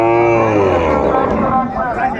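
A cow at a cattle market lets out a loud, close, drawn-out moo, with crowd chatter behind it.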